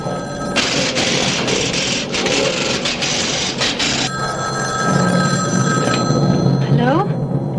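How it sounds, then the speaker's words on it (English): Old-fashioned telephone bell rings loudly in a long continuous burst, stops, then scraping and rustling follow, with speech in the background, from the soundtrack of the horror film Black Christmas. "Your phone's ringing."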